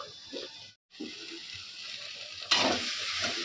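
Curry sizzles and fries steadily in a pan, a broad crackling hiss with a brief gap near the start and a louder burst of sizzle later as it is stirred.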